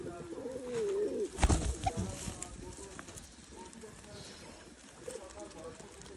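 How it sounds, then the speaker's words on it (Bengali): Pigeons on a village farm coo softly amid nearby voices, with a low bubbling call early on, a brief clatter, and quieter background sounds that continue under the talk. "এই যে কবুতরটা দেখেন, এটা মাশাআল্লাহ, দেখছেন?"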